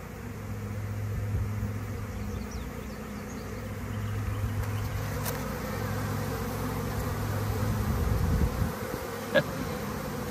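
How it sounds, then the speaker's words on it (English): A honeybee swarm hums outside a hive. Many bees make a dense, steady buzz at moderate distance, with individual bees droning past close by now and then, and there is no talk. "I'm curious to see what this swarm's gonna do"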